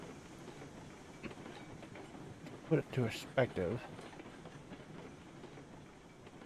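A train running in the Railroads Online video game, with a low rolling rumble and a short cluster of loud chuffing bursts midway, heard under a voice.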